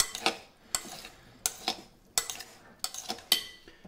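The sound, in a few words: stirring avocado tomato feta salad in a bowl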